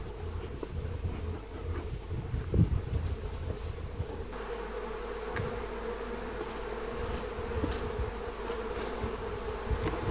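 Honey bees of a colony hum during a spring hive inspection, a dense steady buzzing drone close to the microphone, with light wind noise and no talking.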